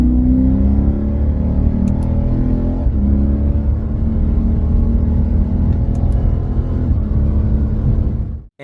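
A car engine heard close and loud, a steady droning rise in revs with a brief dip partway through as a gear is changed, then cutting off at the end.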